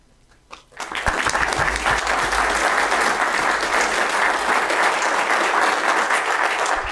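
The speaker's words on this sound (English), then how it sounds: "we'll give her a round of applause" After a brief pause, an audience at a Weber County meeting breaks into sustained applause for an award recipient, an even wash of clapping that stays steady and full to the end.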